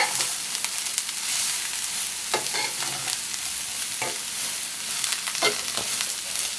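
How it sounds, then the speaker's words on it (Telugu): Drumstick leaves and grated carrot fry in a pan, a steady sizzle broken by repeated scraping stirs of a spoon, close and moderately loud with no talking. "ఇప్పుడు దీనిలో క్యారెట్ తురుము వేసేస్తున్నాను. ఒకసారి బాగా కలుపుకుందాం."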